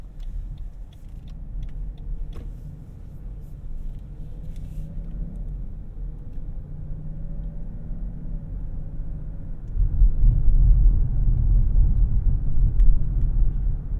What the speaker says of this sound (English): let's go ahead and put our seatbelt on and go for a spin